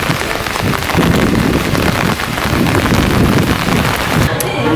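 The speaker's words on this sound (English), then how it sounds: "We found this random shrine in the rain." Steady heavy typhoon rain in Tokyo hisses and patters densely on surfaces, loud and continuous throughout.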